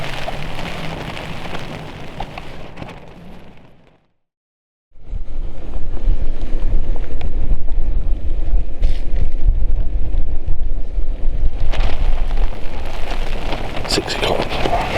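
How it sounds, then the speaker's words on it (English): Heavy rain drumming steadily on a tent close by during a wild camp in the Lake District, with gusts of wind; a short silence interrupts it near the start. "It got quite windy and wet through the night."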